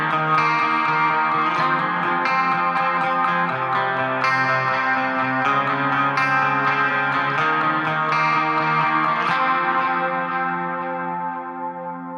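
Clean electric guitar played through the Fortin Namless plugin, ringing chords and sustained notes with a shimmering, chorus-like sheen and reverb tail, loud and alone, gradually fading at the end.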